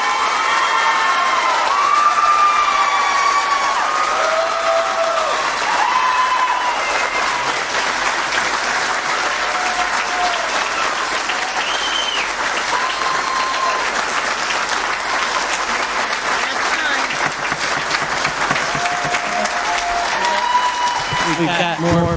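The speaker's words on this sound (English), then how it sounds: "If you could please hold your applause." Sustained, loud audience applause fills a city council meeting in Muncie, dense clapping with scattered cheers and voices mixed in, holding steady throughout.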